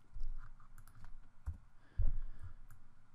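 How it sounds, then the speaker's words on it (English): A computer keyboard gets a few quick presses, with the escape key among them, during shape editing in a 3D modeling tool: scattered light clicks and taps, close and fairly quiet, with no talk. "Hitting escape is a little quicker."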